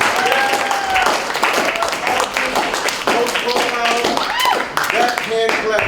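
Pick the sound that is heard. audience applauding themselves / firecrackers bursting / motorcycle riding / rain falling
audience applauding themselves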